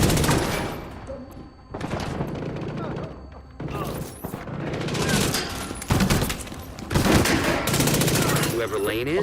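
Pistol gunfire in a video game: rapid loud bursts of shots in quick succession, repeated in clusters throughout, with game voices talking over parts of it.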